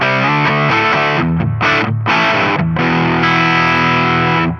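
Electric guitar played through a Mozztronics GD-1 Bone Breaker Green Drive overdrive pedal on its in-between setting, a loud, thick distorted riff of sustained chords and short choppy stabs heard alone.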